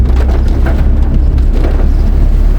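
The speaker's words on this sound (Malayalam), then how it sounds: "നല്ല മഴയും ഉണ്ട് ഗൈസ്" Heavy rain pours steadily and loudly, a dense, continuous hiss with low rumbling underneath and no voices.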